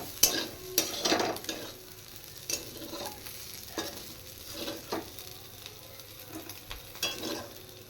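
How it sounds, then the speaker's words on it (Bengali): Small shrimp being fried in a pan and turned over, a soft background sizzle broken by repeated scraping and clattering strokes from a stirring utensil, close and moderately quiet, with no voices. "চিংড়ি মাছ ভাজা হয়ে গেছে এবার আমি চিংড়ি মাছগুলো তুলে নেব"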